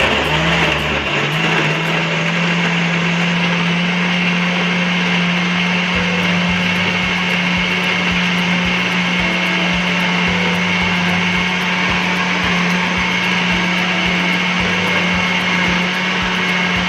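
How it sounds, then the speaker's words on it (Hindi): A blender whirring steadily for a banana and date milkshake with cream and sugar, a loud continuous high-pitched motor whine with a low churning rumble underneath, close and unbroken throughout. "शेकर को हमने 2 मिनट चलाना है।"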